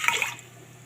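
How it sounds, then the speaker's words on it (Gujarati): A bowlful of water splashes into a cooking pot for khichdi, a brief quiet pour that fades within a fraction of a second, with no voices. "તો આ રીતે 3 વાટકા પાણીને નાખી દઈશું."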